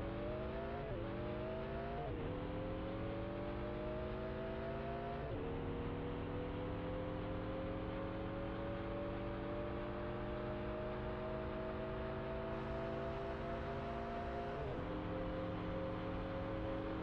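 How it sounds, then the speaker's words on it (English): Koenigsegg Agera engine in Car Parking Multiplayer, stock tune, revving steadily upward through several gear shifts toward top speed, a loud continuous drone with brief pitch drops at each change and no talking. "Now let's test the top speed of stock engine in this car."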